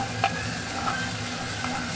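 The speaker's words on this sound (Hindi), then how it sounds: "तो अच्छे से मैं इसको भून लूँ।" Prawn masala with leftover ginger-garlic marinade sizzles and fries in a pan while being stirred, a steady, soft crackle with faint scraping touches throughout.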